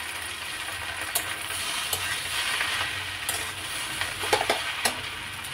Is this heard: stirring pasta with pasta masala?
yes